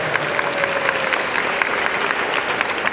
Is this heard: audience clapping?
yes